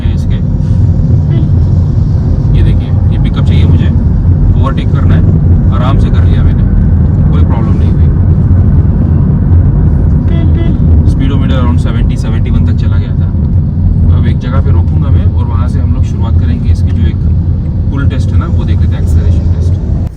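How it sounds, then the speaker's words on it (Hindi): Inside a Citroen eC3 electric car with 57 PS and 143 Nm, a loud, steady road and drivetrain rumble fills the cabin as it accelerates, while someone talks over it throughout. "एक बार मैं आउटराइट एक्सेलरेशन टेस्ट करके दिखा देता हूँ।"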